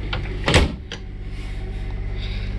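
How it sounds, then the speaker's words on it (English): A 2020 Embark 37K RV door shuts with a single solid thud, followed by a steady low mechanical hum inside the cabin. "Close the door."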